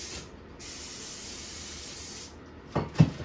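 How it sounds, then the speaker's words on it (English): Brake cleaner sprayed from an aerosol can onto bolts during flywheel and clutch work on a 2017 Honda Civic: two close hissing bursts, a short one and then a longer one, followed by a couple of faint clicks. "We're gonna clean them off with brake clean."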